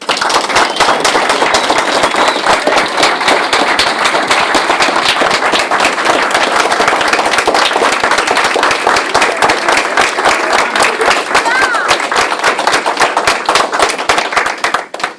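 A sustained round of applause fills the room at a U.S. Army Bronze Star pinning ceremony, dense loud clapping from many hands running steadily for about fifteen seconds before tapering off at the end.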